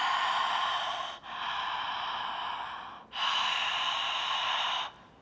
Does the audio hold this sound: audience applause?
no